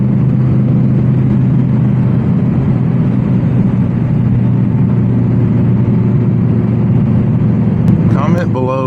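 A 2023 Audi R8 V10 Spyder, naturally aspirated V10, drones loudly on the highway, a steady deep engine roar with road and wind noise throughout, and a brief voice near the end.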